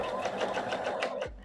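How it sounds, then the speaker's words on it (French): A domestic sewing machine runs a steady, fast stitch through fabric to gather it, close and continuous, then winds down and stops near the end. "Tu commences à coudre."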